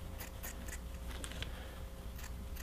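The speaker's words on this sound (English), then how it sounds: "You just basically take a pair of scissors and cut." Scissors snip through cutaway embroidery stabilizer during a Brother SE600 embroidery project, a series of crisp, close cuts in quick irregular rhythm with no talking.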